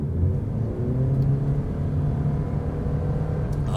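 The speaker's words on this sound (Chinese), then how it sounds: "為什麼車子會突然間嗡嗡作響這樣子？" A 2026 Toyota Yaris Cross hybrid hums steadily as it accelerates. The drone is close and continuous, with a low, rising engine tone under the whir of the cabin.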